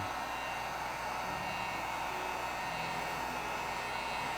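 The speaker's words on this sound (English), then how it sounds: "And with the heat gun, it does take a little bit longer." A heat gun blows steadily on poured acrylic paint, a constant loud whooshing hiss of fan and air with no pauses or talk.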